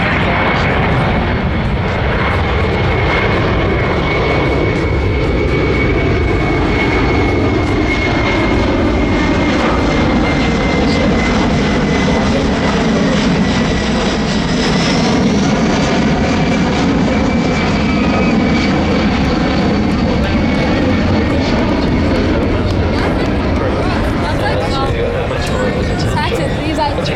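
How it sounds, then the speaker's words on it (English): A Boeing C-17 military transport jet flies a demonstration at the Avalon airshow in Australia. Its engines give a loud, sustained roar with a slowly shifting pitch, and a voice talks over it throughout. "Now the C-17 will manoeuvre for a circle over the airfield."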